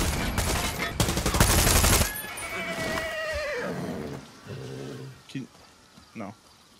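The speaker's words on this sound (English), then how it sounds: "Did you shoot the horse again?" In the video game Far Cry 6, a horse is shot during a burst of gunfire: loud rapid shots for about two seconds, then a long wavering whinny, followed by a few fainter hoof and impact sounds.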